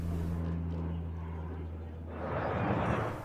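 An An-26 transport aircraft flies past at a military airshow, its steady engine drone with low tonal hum swelling into louder broadband roar toward the end, heard under a voice.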